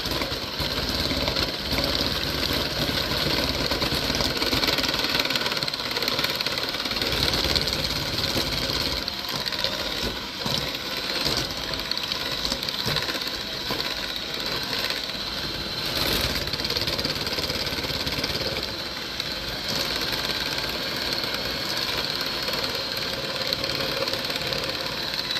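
Electric hand mixer beating sugar for a no-bake cheesecake, running as a steady, continuous whirring motor drone for the whole stretch, close and fairly loud with no talk.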